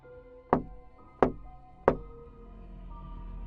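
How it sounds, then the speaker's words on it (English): Three loud, hollow knocks on a door, evenly spaced about two-thirds of a second apart, each ringing briefly before a quiet pause. "someone knocked on the door."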